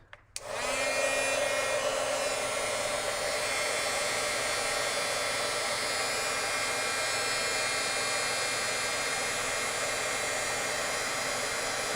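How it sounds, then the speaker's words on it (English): A heat embossing tool blows hot air over embossing powder on a Christmas card, a loud steady whirring roar that switches on sharply and runs unbroken, close and alone. "And then heat emboss this quickly."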